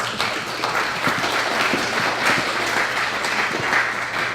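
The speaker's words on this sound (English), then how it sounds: "let's give Bronwyn a round of applause." Workshop audience in Palo Alto applauds for a speaker, steady moderate clapping from a room of people lasting several seconds.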